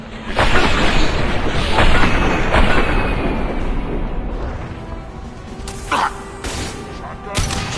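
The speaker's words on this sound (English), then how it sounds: "A misplaced shot could cause a significant explosion." A shot into unstable materials sets off a heavy explosion in the video game Mass Effect 2, a loud booming blast followed by a long rumbling decay and a few sharp bursts later.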